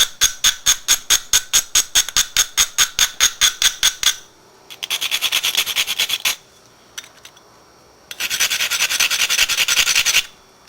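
Stone point being pressure flaked with a large flaker: a rapid regular series of sharp scraping clicks, then two longer bursts of dense grinding rasp separated by a short pause, close and fairly loud with no talk.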